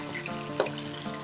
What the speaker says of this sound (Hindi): 2 से 3 मिनट आपने फ्राई करना है इसको